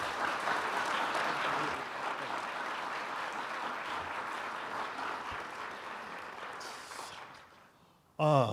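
An audience claps in sustained applause to welcome Dr. Hart at a public lecture, a steady dense patter that slowly thins out before a voice cuts in at the very end.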